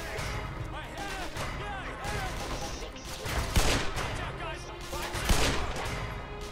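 Gunfire in the shooter game Black Mesa: repeated shots and bursts pop at moderate distance amid busy game noise, with a voice talking over the action.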